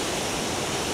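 Two mountain streams meet at a confluence, giving a steady, unbroken rush of flowing water that is loud and close throughout. No voices are heard.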